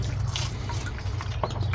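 Water splashed into Miracle-Gro peat seed starter mix, a brief soft trickle and a few drips close by, alone without talk.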